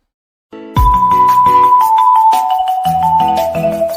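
After a brief silence, a bright melodic tune starts playing from an audio player on a web page, with chiming tones and a steady beat, fairly loud and clear.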